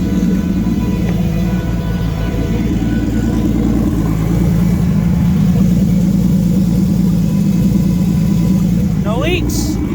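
A Toyota 2JZ engine with aluminum rods, swapped into a Nissan Pulsar GTI-R, idles with a loud, steady, rough rumble close by. Voices talk over the engine.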